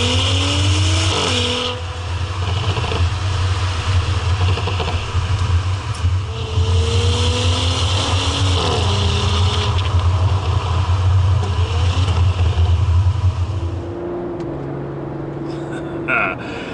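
A 2017 Audi SQ5 with a 345 PS petrol V6 and a hidden exhaust revs and runs steadily close by, a deep droning engine note with rising and falling pitch sweeps throughout, easing to a softer tone near the end.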